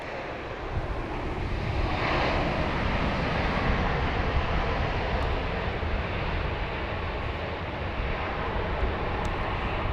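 A plane arriving at Dallas Love Field produces a loud, steady jet roar filling the whole clip, a broad rumble that swells slightly early on without fading, heard alone.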